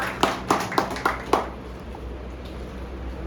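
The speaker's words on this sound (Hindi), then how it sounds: "तालियां हो जाए एक बार मुक्ता जी के लिए।" A short burst of audience clapping at a company annual function: five evenly spaced, crisp claps, then the hall settles into quiet room tone.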